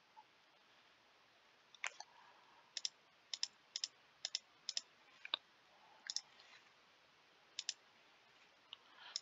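Quiet, crisp computer mouse clicks on a web interface, landing singly and in quick pairs at irregular intervals over a faint steady background hiss, with no talking.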